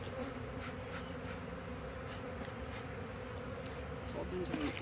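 Dense, steady buzzing of a large swarm of bees milling around a hollow log being cut out during a bee removal, filling the whole stretch at close range with a constant drone and no voices.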